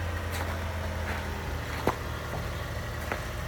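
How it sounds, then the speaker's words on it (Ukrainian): A 2022 Nissan Rogue (T33 body) with a 1.5 engine and front-wheel drive idles steadily after a remote start, a low, even hum with a few faint clicks and no talk. "Все працює, автомобіль завівся"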